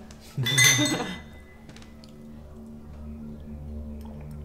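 Glasses clink once in a bright, ringing toast celebrating pregnancy news, followed by a quiet room hum.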